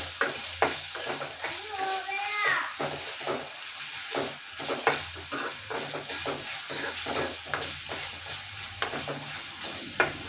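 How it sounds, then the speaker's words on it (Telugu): Ginger garlic paste fries in hot oil with a steady sizzle while a spoon stirs and scrapes the pan, making frequent clinks and knocks. Another sound sweeps briefly through early on, and kitchen noise stays close and continuous. "అల్లం వెల్లుల్లి పేస్ట్ అనేది నూనెలో బాగా ఎర్రగా వేగిపోవాలండి."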